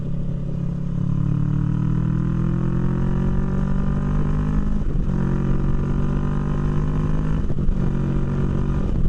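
A Kawasaki Versys 650 motorcycle with a 650cc inline two-cylinder engine runs with a loud, steady, throbbing drone that rises gradually in pitch as it pulls, with two short dips where the note briefly breaks.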